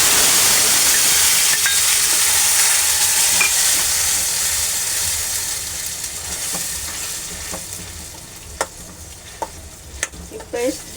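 Masala paste sizzles loudly in a hot pan with curry leaves, a strong steady hiss that gradually softens, broken near the end by a few sharp clinks and stirring scrapes.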